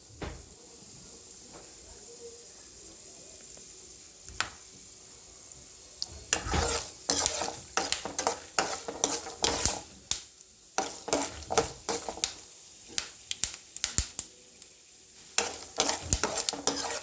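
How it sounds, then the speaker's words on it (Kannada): Chana dal and urad dal fry in oil for chitranna, a faint sizzle under scattered spoon scrapes and clatters against the pan that grow busier and closer midway. "ಸ್ವಲ್ಪ ಕಡಲೆಬೇಳೆ, ಸ್ವಲ್ಪ ಉದ್ದಿನಬೇಳೆ, ಇದನ್ನು ಹಾಕ್ಕೊಂಡ ತಕ್ಷಣ ಸ್ವಲ್ಪ ಫ್ರೈ ಮಾಡಬೇಕು ಫ್ರೆಂಡ್ಸ್."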